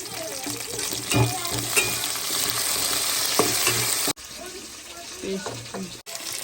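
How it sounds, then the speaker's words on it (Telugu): Mint and curry leaves fry with onions in a pan for chicken fried rice, making a constant close sizzle with occasional spoon scrapes and taps, briefly cut to silence twice. "ఇవి కొంచెం ఫ్రై చేసేప్పుడు పుదీనా కరివేపాకు"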